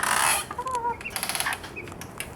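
A newly hatched baby chick in a coop cage lined with pine shavings gives a few thin, high peeps close by, scattered among soft rustling and a brief louder burst at the start.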